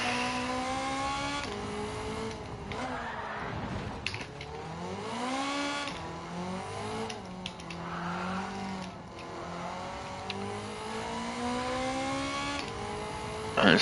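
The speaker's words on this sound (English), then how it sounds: "Hear that whooshing sound in the cockpit of the car?" A turbocharger whooshes and whistles inside the cockpit of a race car in Gran Turismo 7, rising and falling with the engine's revving pitch sweeps across repeated accelerations, with no talk.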